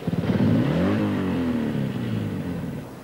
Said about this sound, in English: Let the clutch in gently. No more. Now, give the engine a little throttle.